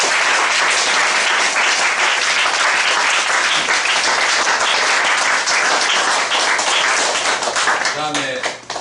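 Loud, dense applause from a concert and forum audience honoring a performer, steady across the whole stretch and tapering off at the end as a voice cuts in.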